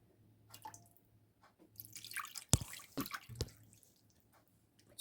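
Marinade of vinegar and oil with bay leaves and cloves is poured over mackerel, with quiet, irregular drips and small splashes, a few sharper spatters in the middle.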